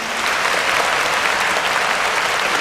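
An audience at a Tamil debate event for Kamaraj's birthday and Education Development Day claps loudly and continuously, a dense, even roar of applause with no talk.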